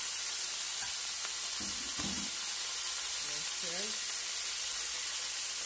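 Asparagus sautéing in a pan gives a steady, soft sizzle and steamy hiss throughout, with a brief spoken word and faint kitchen clatter over it.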